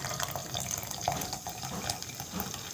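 Acid pours into a beaker holding crushed calcium carbonate pieces, a steady close trickle of liquid with faint splashes throughout.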